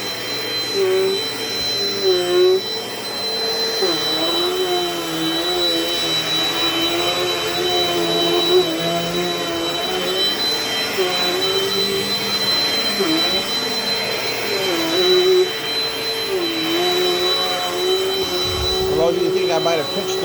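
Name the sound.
Dirt Devil Dynamite Plus vacuum cleaner running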